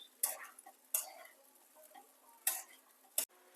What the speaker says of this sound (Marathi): मीडियम गॅसवर खिचडी परतवत राहावी